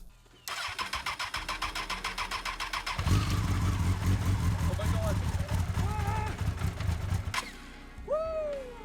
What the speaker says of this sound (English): I then installed the gas tank and attempted to start the bike